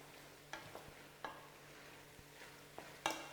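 Sweet peppers and other vegetables for wraps being stirred in a pan, with soft sizzling and a few sharp utensil scrapes and taps against the pan, close and alone.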